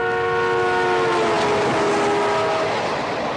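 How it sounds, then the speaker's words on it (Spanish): A train horn sounds steadily over the rumble of a passing train, the tone bending downward as it goes by. "Según se acerca el tren, el tono del silbato aumenta."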